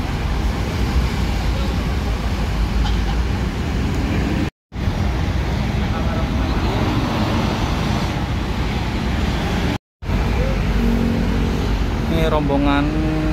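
A Prima Jasa bus pulls out amid loud traffic rumble, engine drone steady and near with two brief dropouts, a horn-like tonal blare rising near the end while people talk nearby.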